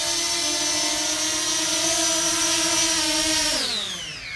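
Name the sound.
Fimi Mini drone flying nearby, propeller buzz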